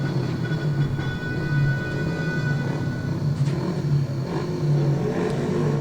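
Speedway motorcycles revving on the start line before a heat in a National League meeting, a steady loud engine drone with rising and falling revs, several machines blended together at close range.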